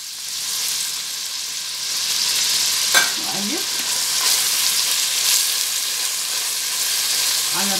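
Onion and garlic frying in ghee in a pan for an Egyptian okra and meat tagine, a steady loud sizzle with a few scraping stirs of a spoon against the pan.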